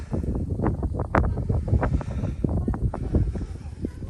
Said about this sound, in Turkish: istiyor burada bayağı bir rüzgar